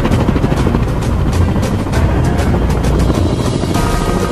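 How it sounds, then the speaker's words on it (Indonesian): Military attack helicopter of the US Army, a loud continuous rotor and engine roar with dense rapid chopping, steady and close throughout. "ini bukan mobil, tapi helikopter tempur ini punya tentara Amerika ya"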